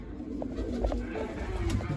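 A pigeon, a hen bird thought to be a green-necked female, coos softly and repeatedly at close range against a low background rumble, with no talk.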